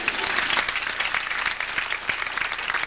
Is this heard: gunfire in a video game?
no